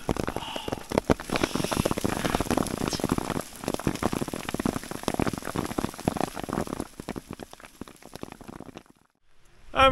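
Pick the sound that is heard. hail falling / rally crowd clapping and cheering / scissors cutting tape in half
hail falling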